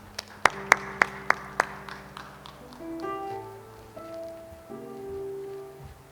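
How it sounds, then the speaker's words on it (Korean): A handful of sharp, evenly spaced claps ring out at a church youth worship service, then fade into soft sustained keyboard tones. "우리 박수로 맞이할까요?"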